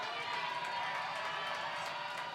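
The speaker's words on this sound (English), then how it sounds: "Amherst crowd makes noise." A high-school football crowd roars at Amherst during a 2025 WIAA game against Spencer/Columbus, a steady, distant wash of cheering and noise that holds evenly throughout.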